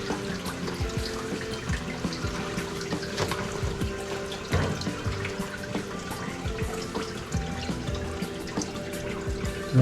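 Coolant poured into the cooling system of a BMW 528i F10 during thermostat replacement, a steady close liquid trickle and splash with small drips running throughout, no talking.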